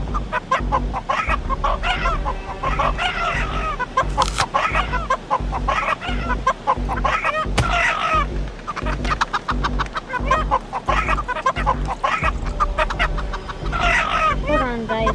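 Roosters cluck and crow in a VR rooster-fighting video game, giving dense, busy clucking and crowing throughout while a person talks over the game sounds.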